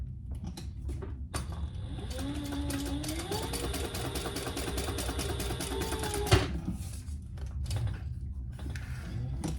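A sewing machine stitches a faux row of stitches under a card slot on a Magnolia wallet, its mechanism whirring and ticking steadily and close for several seconds, with a brief sharp clack near the end.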